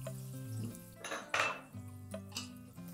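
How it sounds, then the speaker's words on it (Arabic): A metal spoon clatters and scrapes against a pot while vegetables are mixed and fried with spices and red lentils for a soup, giving a few sharp knocks over a low steady hum, with no talking. "نخلط الخضار تاوعي ونخليهم يتقلاو مليح"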